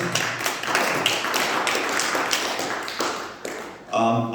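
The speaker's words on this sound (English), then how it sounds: "I think it deserves an applause" Scattered audience clapping at a political forum in Berlin, loose and uneven claps in a hall, moderately loud and ending in a brief burst of other sound.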